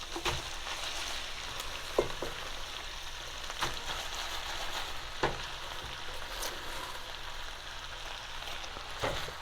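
Cabbage fries in a pan with onions and bacon, giving a steady close sizzle with occasional clicks and taps of stirring, and no voices.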